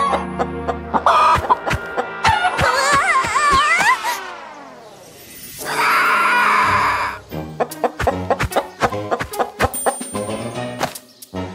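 Repeated clucking and squawking from chickens over background music, with a long sliding call in the middle and scattered sharp clicks.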